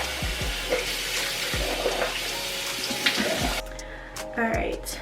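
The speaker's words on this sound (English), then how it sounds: "After cleansing, I'm gonna go ahead and rinse my face." Water runs steadily from a bathroom tap as a face is rinsed after cleansing, a loud continuous hiss with intermittent splashing, then the flow cuts off near the end leaving faint drips and handling noises.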